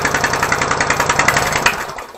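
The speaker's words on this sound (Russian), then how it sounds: "От мотоблока, что ли, мотор?" A walk-behind tractor engine runs close and loud with a steady, fast chugging pulse, its rhythmic knocking carrying on alone for a couple of seconds before cutting down at the end.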